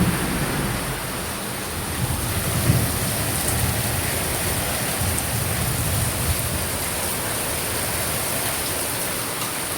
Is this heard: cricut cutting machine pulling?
no